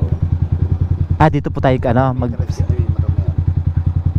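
Tricycle, a motorcycle with a sidecar, idling nearby with a steady rapid chugging putter throughout, while a person speaks briefly over it.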